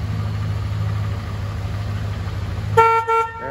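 A 1978 Mercury Cougar XR7 idles with a low engine rumble, then its horn gives two short, loud toots close by near the end.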